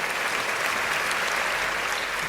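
Audience applause fills a hall at an international awards ceremony, a steady dense wash of clapping that runs loud and unbroken from start to finish with no talk over it.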